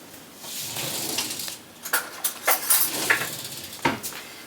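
A spoon clinks and scrapes against a rice cooker pot of grits, a handful of light metallic taps and knocks clustered together, close and fairly quiet with no talking.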